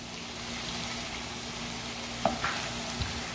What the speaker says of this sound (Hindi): सब ब्रेस्ट पीसेस को फ्लिप करेंगे और इस साइड को भी हम लोग 5 मिनट के लिए पका लेंगे।